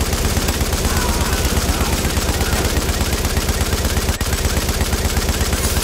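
Rapid automatic gunfire in The Division video game rattles nonstop at a fast, even rhythm, loud and close, throughout.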